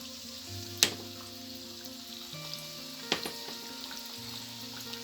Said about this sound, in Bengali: আমি এখন বাকি পিঠাগুলোকেও তেলে ভেজে নিচ্ছি একটা একটা করে